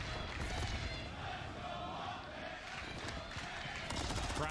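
A large esports event crowd at a Call of Duty League Major cheers and roars in a dense, continuous wash of noise that holds steady and swells near the end.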